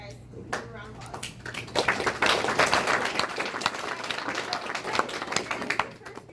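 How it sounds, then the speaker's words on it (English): Audience applause builds from scattered claps into a dense, fairly close round of clapping, then tapers off near the end, with some talk at the start. "Give a round of applause."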